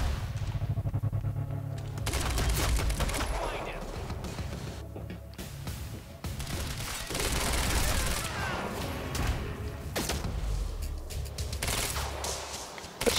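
Rapid gunfire bursts from the video game Quantum Break, dense and loud throughout, with continuous shooting and impacts layered over a game soundtrack while a player talks.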